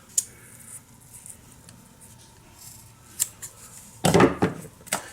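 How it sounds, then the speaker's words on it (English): Scissors cutting paracord up close, with a sharp snip at the start, a few light clicks, then a louder crunching cut through the cord and a final snip. "I'll go ahead and cut that"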